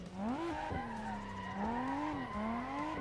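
Tires squeal continuously as a car drifts and spins out in the racing game Assetto Corsa, with a wavering high screech over a revving engine, close and steady for the whole stretch.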